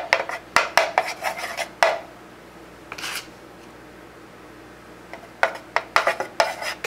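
A spoon or fork clinking and scraping in a container while paint is stirred for swirl painting a guitar, bursts of sharp clatter separated by a quiet pause, no speech.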